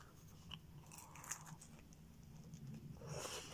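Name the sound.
biting into crunchy pepperoni pizza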